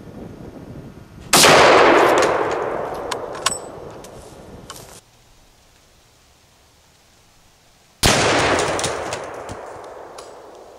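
A .375 H&H Magnum rifle fires a 300 gr solid into concrete blocks at 25 yards: one sharp, loud blast with a long ringing decay, then a quiet pause before a second loud burst of similar sound.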